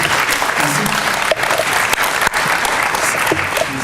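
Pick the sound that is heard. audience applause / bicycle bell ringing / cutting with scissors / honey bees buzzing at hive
audience applause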